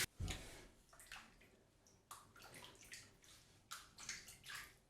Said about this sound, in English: we'll see how slow it drains